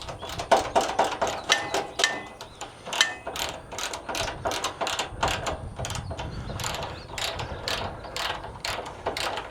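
A hand ratchet works on a Kubota tractor, likely around the radiator of an overheating machine, giving rapid, steady bursts of close metallic clicks across the whole stretch with no speech.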